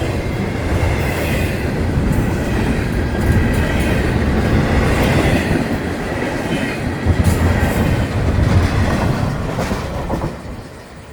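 A long Florida East Coast Railway freight train rumbling past nearby, loud and continuous, with rhythmic clickety-clack from the wheels before it begins to fade.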